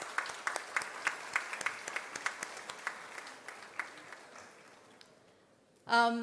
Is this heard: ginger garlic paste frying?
no